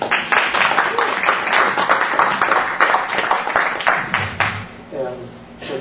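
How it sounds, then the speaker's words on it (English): A forum audience applauding a reporter, a dense patter of many hands clapping at close range for several seconds, then tapering off. "for a few times a reporter gets applause"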